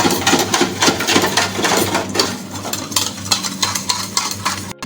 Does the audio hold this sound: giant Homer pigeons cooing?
no